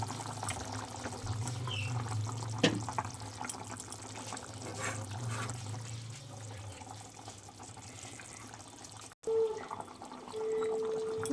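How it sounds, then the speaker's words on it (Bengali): Fish curry broth of pangas fish bubbling in a pan, a low, steady simmering and watery hiss throughout, with a brief clatter and a short tonal sound near the end. "ঝোল বেশ ভালোভাবে ফুটে উঠেছে"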